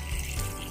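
Water poured from a vessel into a pot of chopped vegetables, beetroot among them, for soup before it goes into a pressure cooker on a gas stove; a short, steady splashing pour close by with no talk.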